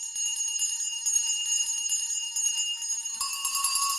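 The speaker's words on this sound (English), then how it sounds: "Every bell in the house must be ringing." Many bells ring together at once, a bright sustained metallic jangle from a stage sound effect in a theatre production of A Christmas Carol, swelling louder near the end with no voices.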